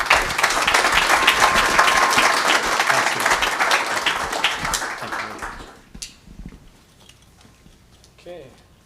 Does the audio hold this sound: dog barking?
no